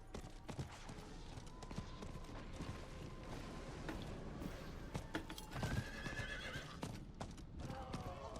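Horse whinnying and hooves clip-clopping as a Barbarian rides a mount in Diablo 4, steady hoofbeats under game ambience with a neigh, faint and fairly close, some background noise and speech-like sound mixed in.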